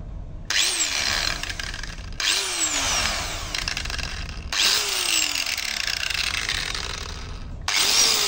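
A Stanley angle grinder spins up in four separate runs, each a loud whine that rises as the motor reaches speed and then cuts off, with short silent gaps between.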